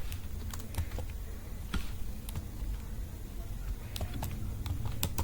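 Clicky keystrokes on a computer keyboard as code is typed, an irregular patter of taps and a few sharper key hits over a steady low background hum, with no talking.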